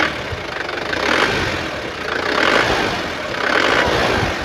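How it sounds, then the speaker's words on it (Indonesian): A 2010 Isuzu Panther pickup's turbo diesel engine idling steadily, a loud close rumble with a clattery diesel knock and gentle rhythmic swells in level, no voices over it. "dengerin suara mesinnya ya."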